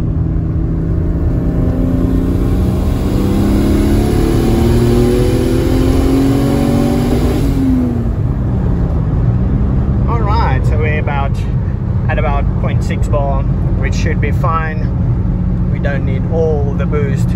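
A Mercedes W203 with a turbocharged M104 engine revs hard in a loud, sustained run of rising engine tones that drop away partway through, followed by a voice talking over a steady idle.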